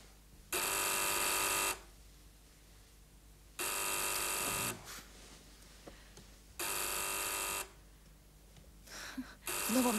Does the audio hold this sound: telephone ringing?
yes